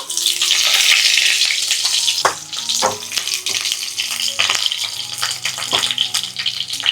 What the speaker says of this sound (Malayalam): ഇനി ഇതിലേക്ക് കുറച്ച് കറിവേപ്പില ചേർത്ത് കൊടുക്കുക